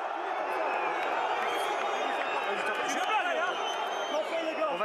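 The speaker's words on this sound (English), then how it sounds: "despite the crowd calling for a penalty for their team" Rugby crowd in a Top 14 stadium roaring steadily after a collapsed scrum, a dense, continuous wall of voices with scattered whoops and cheers, loud and sustained throughout.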